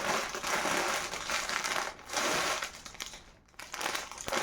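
A shopping package is unpacked up close, its plastic wrapping crinkling and crushing loudly in dense bursts with short pauses between handfuls.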